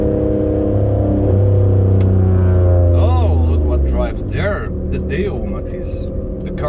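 A Chevrolet Matiz engine hums while driving, with its pitch sliding as it revs and shifts. The drone stays loud and close, and voices talk over it in the second half.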